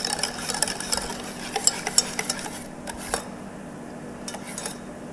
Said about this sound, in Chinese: 加入刚才鲜榨的柠檬汁，还有柠檬皮，继续的把它们混合均匀